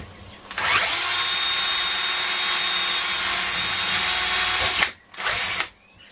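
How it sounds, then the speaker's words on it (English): A power drill bores out an old capacitor during restoration of a Dynatron Nomad TP11 radio, whirring loudly and steadily for about four seconds, then a brief pause and a second short burst close by. "Carry on with the drilling process"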